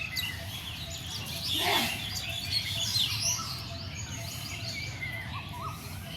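Several birds, including crows and mynas, chirp and call over a steady outdoor background, with brief tweets and calls scattered throughout at moderate distance.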